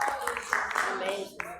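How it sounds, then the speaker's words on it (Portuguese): A church congregation claps in praise during worship, several quick, moderately faint claps in an uneven rhythm mixed with voices in the room. "as palmas que louvam o Senhor"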